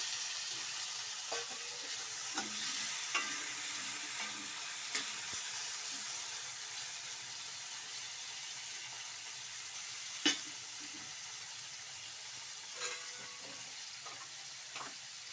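Chopped tomatoes frying and being stirred in a pan for horseradish saaru: a steady, close sizzle runs throughout, with occasional spoon scrapes and clinks, and one sharper knock near the middle. No talking.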